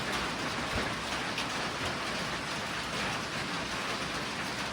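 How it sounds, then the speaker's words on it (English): Rain falls outside in a dense, steady wash, loud and constant throughout with no voices. "If we do, then we might get soaked by rain"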